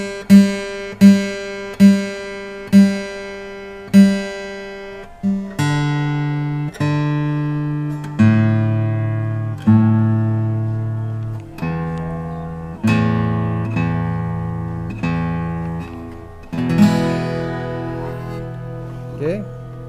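A Yamaha F310 acoustic guitar with rosewood, played outdoors, rings out single plucked open strings, then a run of sustained strummed chords, each struck clearly and left to decay, close and fairly loud.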